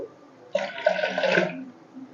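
Water poured into a pot of thin drumstick dal, a short splashing pour of about one second rising from quiet and fading out.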